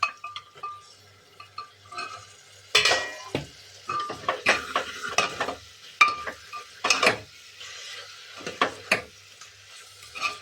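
Mutton curry masala being stirred in a metal pan with a spoon, scraping and clinking in uneven bursts over a soft sizzle, close up and with no talking.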